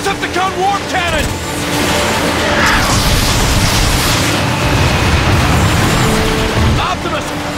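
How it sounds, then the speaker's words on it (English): Heavy booming blasts from a Decepticon warp cannon in the Transformers: Fall of Cybertron video game roll on as a dense, loud rumble, mixed under voices and synthetic warbling effects. "The Decepticon warp cannon!"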